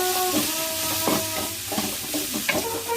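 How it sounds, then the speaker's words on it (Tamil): Sliced carrots for a South Indian carrot fry sizzle steadily in a pan while a spatula stirs and scrapes them in a few short, close strokes, with no voices. "இப்போ நல்லா என்ன செய்யறோம், நல்லா வதக்கி நல்லா வதங்கணும்."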